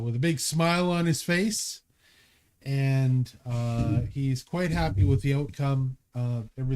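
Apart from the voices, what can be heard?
No everyday noise stands out behind the speech.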